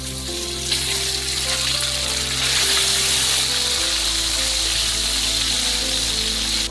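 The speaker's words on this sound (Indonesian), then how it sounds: "Lalu goreng ayam terlebih dahulu." Chicken thigh pieces fry in oil in a pan, giving a steady, loud sizzle that continues without a break. Nobody speaks.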